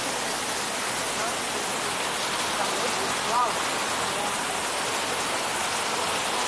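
Waterfall in a tropical garden at Utopia Park, Israel, falling from overhead in a constant loud hiss of splashing water, with a brief faint voice partway through.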